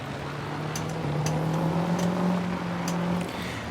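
Pickup truck in Farming Simulator 22 drives with a steady low engine drone and a faint rising whine, fairly constant in level with a few brief clicks over it.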